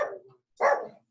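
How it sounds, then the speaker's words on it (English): A neighbouring dog next door barks twice in quick succession, fairly loud and close, with a short silent gap between the two barks and no talking. "As you can hear, the dog is going off."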